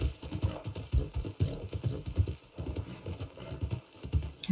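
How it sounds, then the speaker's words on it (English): Breton horse hooves clip-clop steadily at a walking rhythm in the Red Dead video game, close and moderately loud, with no talking over them. "Moonshadow, he's pretty good at not bucking. That's why I do like the Bretons"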